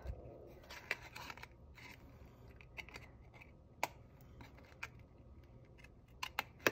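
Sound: paper snips trimming paper

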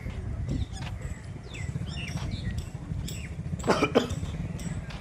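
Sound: coughing

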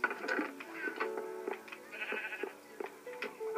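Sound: sheep bleating in a video game

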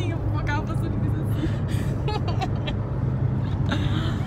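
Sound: car passing by

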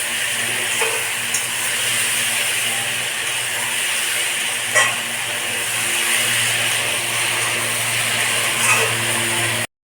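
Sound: stirring chili sauce and green chilies in a frying pan

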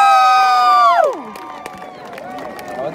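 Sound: graduation crowd screaming and cheering

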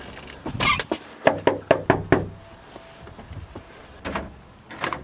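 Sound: knocking on a house door

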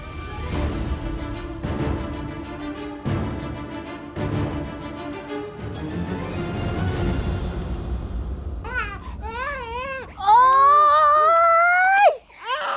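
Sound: baby crying

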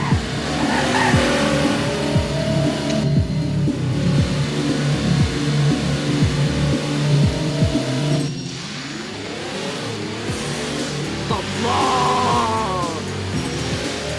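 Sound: car revving and accelerating in Roblox Driving Empire video game

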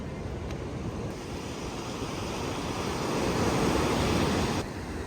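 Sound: sea waves breaking on the shore at Sokcho

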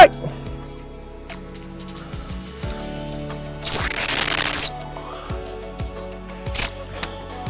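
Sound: stop whistle for training a working cocker spaniel

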